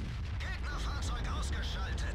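Jagdpanzer E 100 tank destroyer firing its gun in World of Tanks: short, faint booming bursts over a low engine rumble, with a couple of sharp cracks in the second half.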